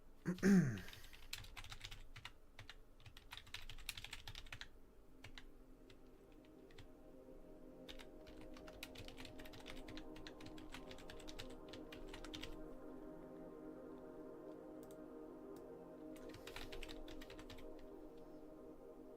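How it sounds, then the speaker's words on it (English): Someone types on a computer keyboard, a quiet, steady patter of key clicks lasting throughout, with short bursts and brief pauses over a low background hum. "I'm just typing it out."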